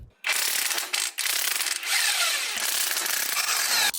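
A wrench or spanner working loose a stuck strut mount nut during a strut mount replacement, giving a close, continuous ratcheting and scraping metal sound with brief pauses.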